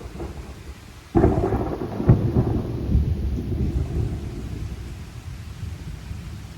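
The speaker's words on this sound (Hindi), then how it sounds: "अब बादल गरजेंगे।" After a quiet moment, a loud thunderclap breaks and rolls into a long rumble that slowly fades, with a soft hiss of rain underneath.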